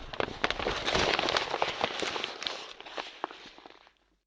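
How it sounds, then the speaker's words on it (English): Paper crinkles and crackles in a dense burst of sharp rustles, close and fairly quiet, thinning out and fading to silence at the end. "For the fourth sample we grab a paper crumble sound."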